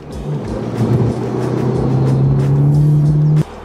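A stage one Volkswagen Scirocco R drives along, its engine note droning steadily from inside the cabin and rising slightly before cutting off abruptly near the end.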